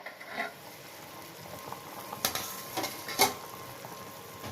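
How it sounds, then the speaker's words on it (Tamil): Fish curry gravy simmers in a pot, giving a soft, steady bubbling with faint patter and a few louder pops, heard up close with no voices. "குழம்பு நல்லா கொதிச்சிருச்சு."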